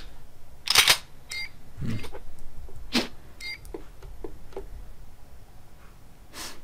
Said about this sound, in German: da darf ich ruhig mal die Kasse plündern